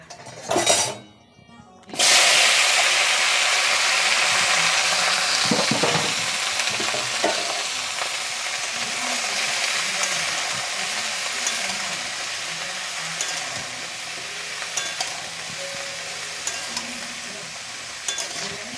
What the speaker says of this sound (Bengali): এই যে এখন আলু ফুলকপিটাকে সুন্দর করে ভাজবো